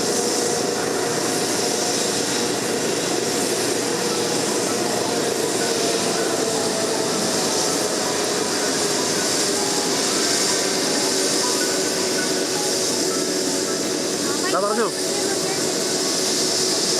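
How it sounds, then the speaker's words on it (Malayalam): Air ambulance helicopter at the Medical College cricket ground in Thiruvananthapuram, heard as a steady, loud broadband roar of rotor and engine throughout, with little change in level. "ഇപ്പോൾ ഹൃദയം സ്വീകരിക്കുന്നതിന് വേണ്ടി തിരുവനന്തപുരത്തെ മെഡിക്കൽ കോളേജ് ക്രിക്കറ്റ് ഗ്രൗണ്ടിലേക്ക് എത്തിയിരിക്കുകയാണ് ഹെലികോപ്റ്റർ."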